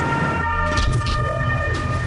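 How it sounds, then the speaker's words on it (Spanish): Sirens of fire engines and ambulances rushing to a plane crash scene wail over rumbling engine noise, loud and close for a brief moment. "docenas de coches de bomberos y ambulancias acuden a la escena"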